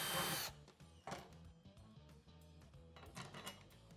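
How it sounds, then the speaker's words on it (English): Power drill boring a hole through a metal pannier mounting plate on a Tusk pannier rack, a loud burst at the start followed by intermittent whirring and metallic rattles. "We'll drill that out"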